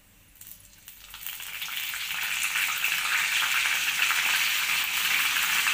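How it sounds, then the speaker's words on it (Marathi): Curry leaves, mustard seeds and cumin hit hot oil in a pan, and a broad sizzle swells over the first two seconds into a steady, loud frying hiss with no talk. "तुम्ही बघू शकता कढीपत्ता किती छान तळतळलेला आहे"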